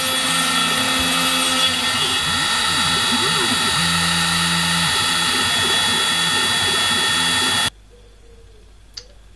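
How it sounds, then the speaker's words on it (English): A homebrew CNC machine cuts a leaping-fish shape into oak with a loud, steady high-pitched whine and sweeping tonal changes as the cutter moves, then stops abruptly, leaving a quiet room. "A leaping fish cut out of oak to check the 3D capability"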